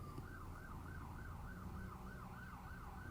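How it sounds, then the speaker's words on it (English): An emergency vehicle siren wails in a rising and falling cycle as it passes at a distance outdoors, faint and steady with no talk over it. "can we just pause and wait for that siren to pass?"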